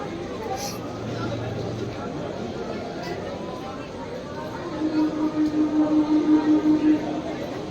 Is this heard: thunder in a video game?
no